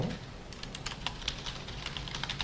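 Code is typed on a computer keyboard in a brisk, continuous run of close, light clicks and key taps with no talking.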